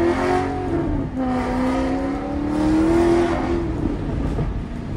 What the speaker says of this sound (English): Maseratis sound just incredible, you know, when they got the Ferrari engine in it, that is for sure